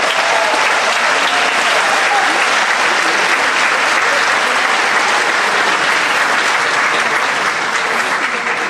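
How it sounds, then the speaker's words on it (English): Loud, sustained applause from a large audience at a middle school graduation ceremony fills the entire stretch, dense and even without pause. "give them a thunderous round of applause"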